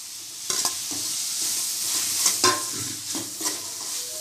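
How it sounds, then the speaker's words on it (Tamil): Tomatoes being sautéed in a pan for Keelakarai-style chicken gravy, with a steady close sizzle broken by a few sharp scrapes and stirs of a spoon against the pan. "நல்லா வதக்கிக்கலாம்."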